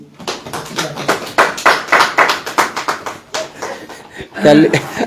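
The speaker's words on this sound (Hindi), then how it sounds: "ताली बजाइए।" A church congregation claps along in a quick, steady rhythm at a Hindi worship service, loud and close, with a brief pause near the end before a final burst.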